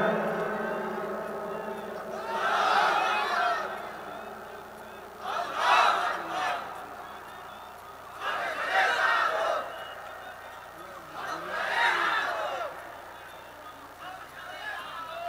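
A large crowd at an Islamic sermon (waz) shouts the takbir in four loud collective swells spaced a few seconds apart, each rising and fading over a steady background hum.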